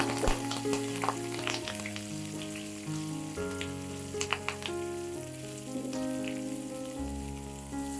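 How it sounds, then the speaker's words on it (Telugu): Asafoetida and tempering spices fry in oil for an amla, ginger and green chilli chutney, a steady, gentle sizzle running beneath background music with occasional small crackles. "ఇదిగోండి, తాలింపు దోరగా వేగింది."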